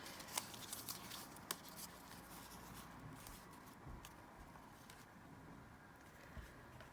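Paper being torn by hand for a junk journal page, quiet close rips and rustles in short bursts with soft handling noise between them.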